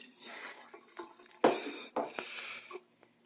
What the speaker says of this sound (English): Then you just dump out the rest of the water.